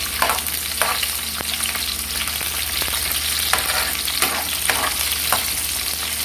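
Green chillies fry in hot oil with bitter gourd (karela) and okra (lady finger), giving a steady close sizzle broken by periodic scrapes and clicks of a stirring spoon against the pan.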